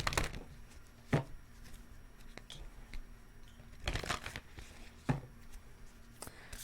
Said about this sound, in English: 2 more shuffles